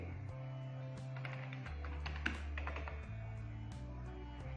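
Keys clatter on a computer keyboard as a Gmail password is typed, a quick run of close, light clicks with brief pauses over a low steady hum.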